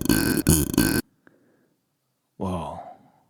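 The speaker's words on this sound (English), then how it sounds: "It's me burping. What? I just looped it. Yeah. It's a burp." A man's burp, recorded and looped, sounds in two loud croaking bursts near the start, then after a pause a third throaty, drawn-out belch fades away.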